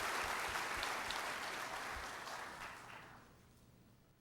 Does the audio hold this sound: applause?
yes